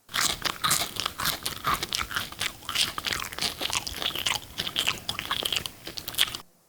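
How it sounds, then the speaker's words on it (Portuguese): Someone eats a crunchy breakfast at home, with steady, close bites and chewing crunches repeating throughout and no talking. "Alguém comendo alguma coisa, um pouco estranho, mas é Maria tomando o café da manhã"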